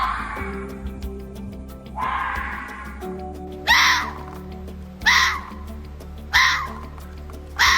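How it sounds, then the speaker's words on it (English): A fox screams several times, hoarse, wailing shrieks that start long and then come in short sharp bursts about a second apart, loud against a faint humming background. "Some foxes scream over half a mile away."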